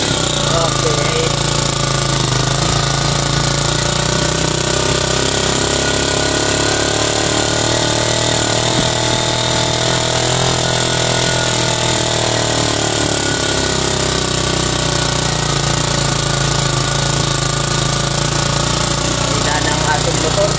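The engine of a motorcycle hauler runs under load on a steep climb, a steady droning rumble with a rough, buzzing tone throughout, close and fairly loud, with people talking over it.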